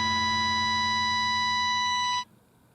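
A guitar feedback squeal near the end of a metal song, a loud, steady, pitched ring held for about two seconds before cutting off abruptly into near silence.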